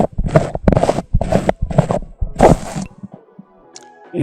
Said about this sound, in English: I'm going to take the grill off.